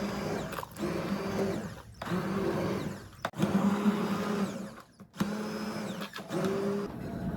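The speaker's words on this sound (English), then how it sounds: "I'm going to go ahead and blend down the blueberry applesauce" Countertop blender whirring through blueberry applesauce in bursts of steady motor hum with brief pauses between pulses, close and fairly loud, no talk.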